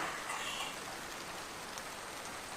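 Steady rain falls in a soft, even hiss of drops hitting surfaces outdoors, constant and moderately close with no voices.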